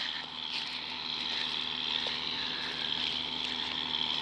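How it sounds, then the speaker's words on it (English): A John Deere 6620 tractor with a Lemken four-furrow plough runs steadily in a field, a continuous engine drone with a faint higher whine, moderately loud and without talk. "So this is our John Deere 6620 with our Lempkin plough"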